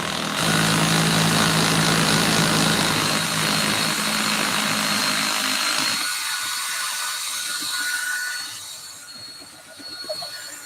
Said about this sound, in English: we're going to drill this first hole right here